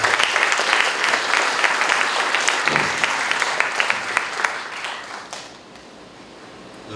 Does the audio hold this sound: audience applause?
yes